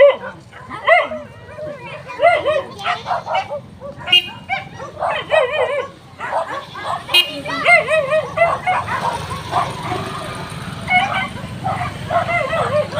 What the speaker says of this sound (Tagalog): Maingay ang mga aso mga idol